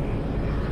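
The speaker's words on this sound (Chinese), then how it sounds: "飞机" A low-flying airplane passing overhead near an airport gives a steady, loud, rumbling roar with no break in the brief moment.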